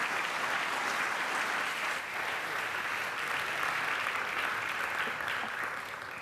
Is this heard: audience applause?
yes